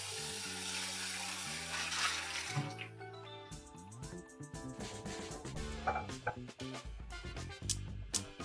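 A dirty pan is rinsed under a running kitchen sink tap, giving a steady close rush of water over musical tones in the background, with no talking.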